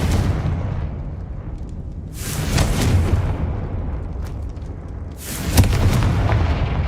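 Confringo fire spell blasts in Hogwarts Legacy, two heavy booming explosions a few seconds apart, each with a rumbling roar that slowly decays, loud and close with no talk.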